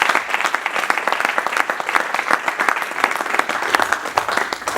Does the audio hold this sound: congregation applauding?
yes